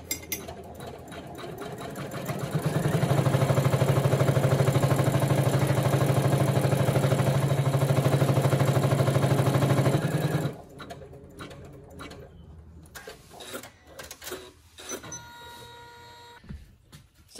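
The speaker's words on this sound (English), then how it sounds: "So I'm just going to hit start. It's going to stitch a couple of stitches and I'm going to stop it." An embroidery machine stitches a design in the hoop with a loud, steady rapid mechanical whir for about eight seconds, then stops abruptly, leaving quieter clicks and handling noises.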